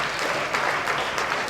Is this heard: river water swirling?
no